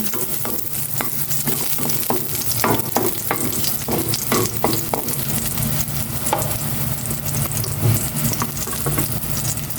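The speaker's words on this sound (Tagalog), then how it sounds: "Igisa ko na itong bawang" Garlic sautéing in a pan, a dense, loud sizzle with repeated scraping and stirring clatters throughout, close up and without speech.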